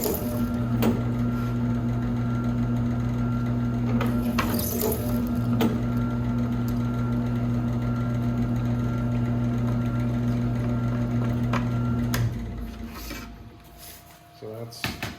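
Power drill boring holes in a PVC board for pixel lights, a steady motor whine with a low droning hum that runs continuously for about twelve seconds before winding down, with scattered clicks and handling noises.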